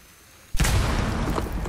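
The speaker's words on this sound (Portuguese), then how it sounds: "Colocou uma bombinha." A small bomb goes off in the video game Rainbow Six Siege: a quiet lull breaks into a sudden loud boom, then a sustained, rumbling roar that holds to the end, with no talk.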